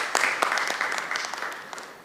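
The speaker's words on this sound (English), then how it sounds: "A big round of applause for our ex-presidents." Audience applause at a conference closing for the former presidents, with distinct individual claps standing out over a fuller crowd wash, moderately loud and tapering slightly over a couple of seconds.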